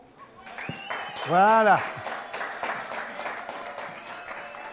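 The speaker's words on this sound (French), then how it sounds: "Applaudissements." Studio audience applause on a French television programme, a steady run of clapping under a sung or sustained vocal note and a brief spoken word.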